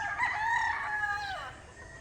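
A rooster crows once at a small game fowl farm, a clear, fairly close, drawn-out cock-a-doodle-doo with a rising and then falling tail, heard alone without any voices.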